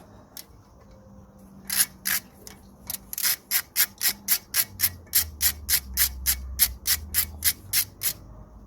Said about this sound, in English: in order to remove the disc, we're going to be using a T30 bit and the ratchet